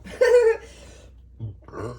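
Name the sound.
burp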